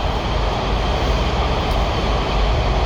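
Steady, loud rumble and wheel roar of a WMATA Metro train running on the Glenmont–Gallery Place line, heard continuously from inside the car with no voices.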